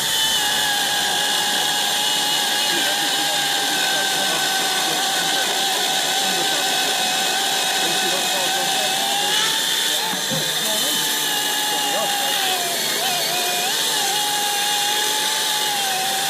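A Milwaukee cordless chainsaw runs steadily at a demonstration event, a continuous high electric motor whine with a chain buzz that holds for the full length, briefly dipping near the middle.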